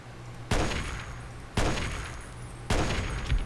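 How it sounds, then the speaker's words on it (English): Three bursts of rapid automatic fire from a frenzied turret in Fallout 3, each starting sharply and rattling on for about a second, loud and close with no talk. "Oh, I got that turret to frenzy."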